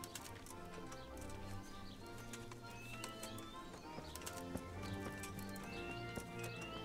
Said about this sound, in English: this is the best horse in the game, I reckon